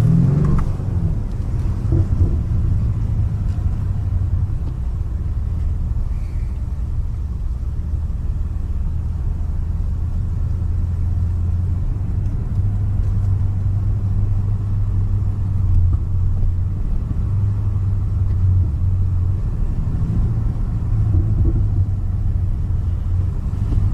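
BMW M5 Competition engine heard from inside while driving at night on wet roads, a steady deep low rumble with slight rises in revs, continuous and fairly loud throughout.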